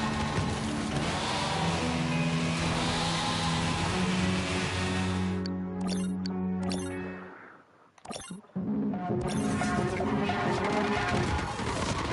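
Racing car engines roar under dense game music and effects in the PlayStation racer Screamer, with a loud smash and crash, a brief sudden dropout, then the racing din resuming at full loudness.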